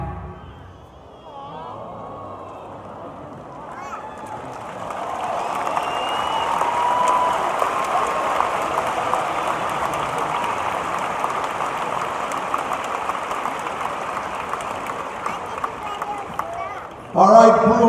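Large crowd applause at a UCLA gymnastics event, swelling into a sustained, dense roar of clapping that goes on for many seconds, ending with a louder burst.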